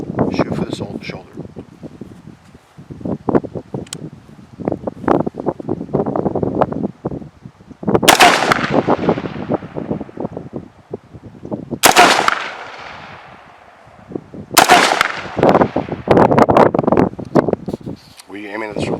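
AR-15 rifle fired outdoors, three sharp loud shots spaced a few seconds apart, each with a short ringing tail, between stretches of talk and wind noise on the microphone.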